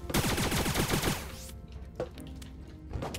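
Dual pistols fire in the Starbound video game as a rapid burst of sharp, closely spaced shots for about a second and a half, followed by a few scattered game sound effects.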